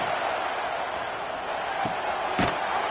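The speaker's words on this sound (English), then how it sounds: "This crowd, full throat, spreading the eardrums and letting them know it's going to be a long day." A college football stadium crowd roars in a broad, sustained wash of cheering that fills the whole clip, with a couple of sharp thuds or slams standing out near the end.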